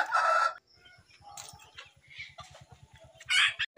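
Seven-week-old bantam chickens cluck and peep close by, with a couple of short, high crows breaking out at the start and again near the end.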